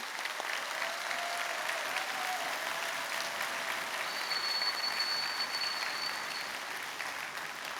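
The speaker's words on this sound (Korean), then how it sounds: "목사님께 박수 한 번만 더 보내주시기 바랍니다" A church congregation at a Sunday afternoon service claps for the pastor: sustained, even applause from many hands filling the room for nearly eight seconds, with a faint high electronic whine in the middle.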